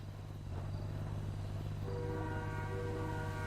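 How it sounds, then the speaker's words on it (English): Train in the video game GTA 5, its horn sounding a sustained tonal blare over a steady low rumble of rolling rail cars, moderately loud with no talk. "Train? I hear the train, but no train going by."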